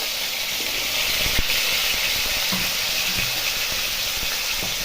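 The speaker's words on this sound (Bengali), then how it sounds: "আলু ভেজে নেবো।" Diced potatoes frying in oil with a little turmeric and salt produce a steady broad hiss up close, with a few soft knocks and stirring taps scattered through it.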